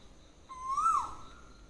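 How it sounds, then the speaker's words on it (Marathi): An Asian koel gives a single clear, rising whistled call in the morning, moderately distant and alone against a quiet background. "कोकिळ ओरडते बघा सकाळ सकाळ कसं कोकिळेचा आवाज"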